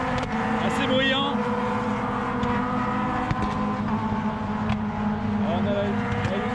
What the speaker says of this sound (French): Là ce que vous entendez ce sont les 420R qui tournent.